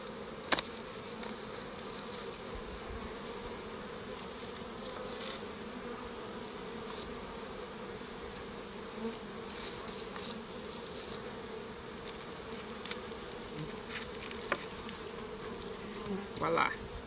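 Honeybees hum in a steady drone around a freshly merged hive made from side-by-side nucs, close and continuous. A few faint clicks and taps break through the buzz.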